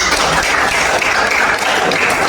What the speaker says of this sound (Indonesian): Berikan aplaus buat teman